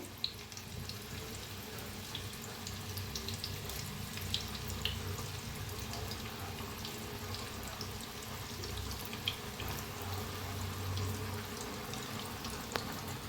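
Chana koli vada frying in hot oil, a quiet steady hiss and crackle that continues evenly with little change.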